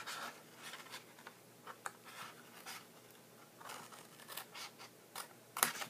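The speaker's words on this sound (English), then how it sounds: "We're going to cut up this one to the first score mark." Scissors snip through a paper gift box in short, close cutting strokes with scratchy rustling, a few quick bursts spaced across the clip and a sharper click near the end.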